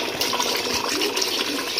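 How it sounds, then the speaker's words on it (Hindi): Water is poured steadily into a cooking pot of meat for palak gosht, a continuous close splashing gush with no voices. "अब हम इसमें पानी डाल देंगे।"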